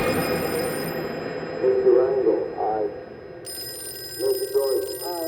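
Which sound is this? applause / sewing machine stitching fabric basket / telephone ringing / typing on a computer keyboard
telephone ringing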